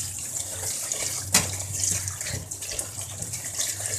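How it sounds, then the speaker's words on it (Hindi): Bitter gourds rinsed under a running kitchen tap, a steady splashing stream of water with small surges and splatters as the vegetables are handled, close and continuous. "अब मैं इन्हें खुले पानी में वॉश करती हूँ।"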